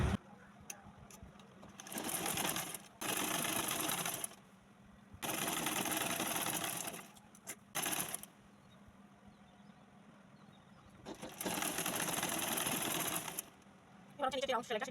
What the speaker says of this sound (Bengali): প্রথমে বডির যে সেলাইটা সেটা করে নিব।